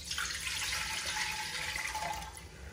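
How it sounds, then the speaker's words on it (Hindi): Water pours steadily into a cooking pot set on a lit stove, about two glasses' worth for banana jam, a continuous close splashing rush with no talking. "2 गिलास जी हमने इसके अंदर पानी ऐड कर लिया है"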